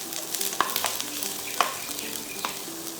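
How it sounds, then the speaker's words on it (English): Onions frying in hot oil in a pan over medium heat, a steady close sizzle with occasional stirring clicks and scrapes, no talking. "when the oil is hot, fry the onions for about a minute or 2 to soften"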